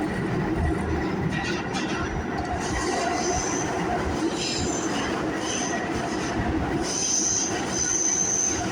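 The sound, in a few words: train moving on rails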